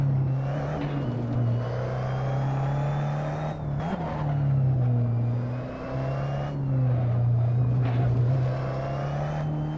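A Tatuus open-wheel race car engine in a racing simulator at Magione, droning steadily with rising and falling revs through gear changes and braking, close and continuous with no voices.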